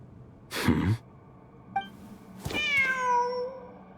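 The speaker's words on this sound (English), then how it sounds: "Wait, there it is! The cat!" A cat meows in the video game Genshin Impact: one drawn-out, clear meow after an earlier short breathy burst and a brief chirp, heard alone with no talk.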